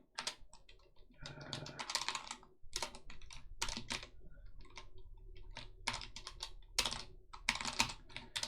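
Computer keyboard keys clatter in fast, uneven bursts of close clicks with short pauses between runs, quiet overall and without any talking.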